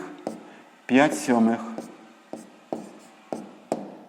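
A pen scratches out a number on paper during a sixth-grade maths exercise, several short sharp strokes spaced apart, with a person speaking briefly partway through.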